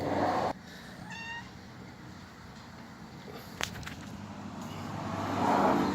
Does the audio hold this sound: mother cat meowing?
yes